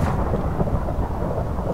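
A loud, continuous rumble of thunder from a lightning strike in Minecraft rolls on steadily for the whole stretch, broad and heavy with rain-like hiss mixed in.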